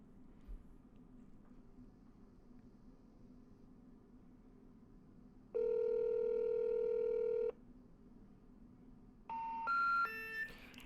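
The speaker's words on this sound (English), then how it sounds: "we're going to call our next number" Telephone keypad dialing tones on a call to a seller's number: a sustained tone burst, then a quick run of rising DTMF beeps over low background hum, with no talking.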